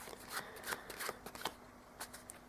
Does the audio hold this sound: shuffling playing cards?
yes